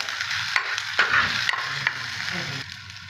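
Chopped tomatoes frying in a pan sizzle steadily. Several sharp scraping and clacking stirs break through it, and the sizzle drops toward the end, with no one talking.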